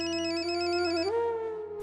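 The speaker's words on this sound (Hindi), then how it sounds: "किसका फोन है? पता नहीं, शायद आउट स्टेशन कॉल है।" A telephone at home in a Hindi TV serial rings with a loud, steady electronic ringtone that shifts pitch once and then stops.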